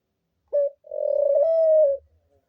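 A single lonely pet dove coos up close: one short note, a brief pause, then a long, steady, rising coo that fades out.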